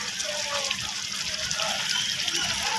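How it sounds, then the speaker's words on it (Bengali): A little water is poured into fried masala, producing a soft continuous splashing gush that runs faintly for a few seconds. "একটু হালকা জল দিয়ে দেবো।"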